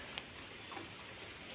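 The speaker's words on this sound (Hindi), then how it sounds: "देखिए कितना ख़राब मौसम हो गया और बारिश आ गई" Light rain falling during a sudden bout of bad weather, a faint, soft steady hiss with one small tap near the start and no voices.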